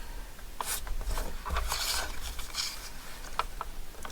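Paper is trimmed for a pop-out tea bag card, giving a steady, close rasping slide of a trimmer blade with a few light taps, fairly quiet and with no talking.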